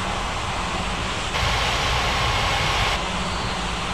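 Airliner jet engines roar steadily at takeoff in an air traffic control video game, a loud, broadband rushing drone with no voices.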